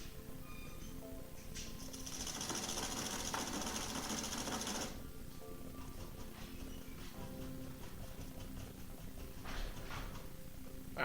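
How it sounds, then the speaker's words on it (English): A paint brush is beaten against a golf ball basket at the bottom of a cleaning bucket, making a faint, rapid, rhythmic rattling for a few seconds, followed by quiet room tone with a few soft knocks. "It's got a golf ball basket down at the bottom, so you can just beat it down on the brush."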